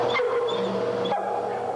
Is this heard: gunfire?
no